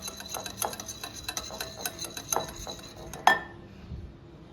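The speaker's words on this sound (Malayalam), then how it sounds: "ഒരു ബൗൾ എടുത്തിട്ട് അതിൻ്റെ അകത്തേക്ക് നമുക്ക് ഇച്ചിരി ഓയിൽ, സൺഫ്ലവർ ഓയിലും ബട്ടറും കൂടെ ചേർത്ത് നല്ലവണ്ണം ഒന്ന് ഇളക്കി കൊടുക്കാവേ." A utensil clinks and taps against a bowl in irregular strokes while sunflower oil and butter are stirred together for chocolate cookie dough, close and fairly quiet, ending in a sharper knock.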